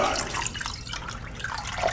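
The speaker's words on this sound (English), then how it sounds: "I'm just going to add a little bit of water to that." Two cups of water run and splash steadily into a cooking pot for about two seconds, a close, continuous pouring sound with no talking.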